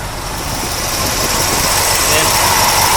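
1976 C3 Corvette V8 engine idling while parked in a driveway, a steady close rumble holding an even level throughout, with no speech over it.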